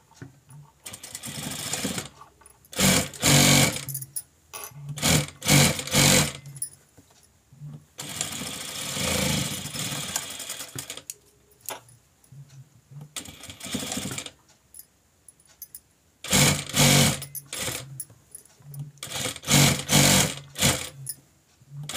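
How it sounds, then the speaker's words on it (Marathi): A sewing machine stitches a half-inch seam on a blouse, running in repeated bursts of rapid mechanical whirring that stop and start, with quiet pauses between the runs. "इथं अर्धा इंचवर शिलाई मारून घ्यायची"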